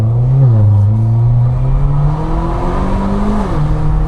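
A car's engine, switched into sport mode, revs loudly and close, its pitch rising and dipping in several throttle blips over a steady droning tone, with no talking over it.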